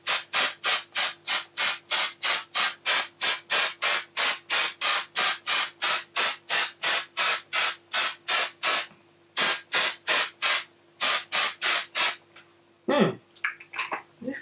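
A Dark & Lovely Intense Color Spray hair color can sprays onto hair in quick, evenly spaced hissing bursts, dozens in a row up close, with a brief pause before the last few.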